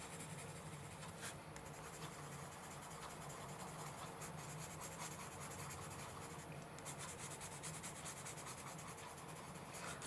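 Colored pencils blend over paper with gentle, continuous soft scratching from close up. The faint, even rubbing carries on without pause and no one speaks.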